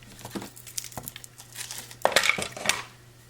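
Scissors snip through a length of iridescent Snowflake Splendor ribbon with a few soft crisp cuts and light crinkling, close and fairly quiet.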